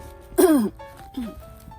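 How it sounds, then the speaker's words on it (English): A short, throaty cough rises out of quiet background, followed by a fainter second rasp a moment later. "sorry of my cough"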